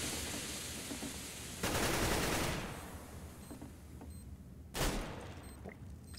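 Bursts of gunfire from a Counter-Strike: Global Offensive match, with a loud sustained volley followed by quieter scattered shots and a second sharp burst near the end.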